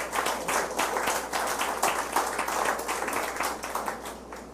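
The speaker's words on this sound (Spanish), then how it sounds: "Den un aplauso al Señor Jesús." Churchgoers at a Spanish-language service give steady applause to Jesus, a continuous wash of many hands clapping, somewhat distant and even throughout.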